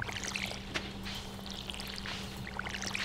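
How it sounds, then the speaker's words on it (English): Watering can pouring water on crops in the farming video game Stardew Valley: a continuous soft splashing pour with a steady low hum underneath, even in loudness throughout. "I'm gonna water these."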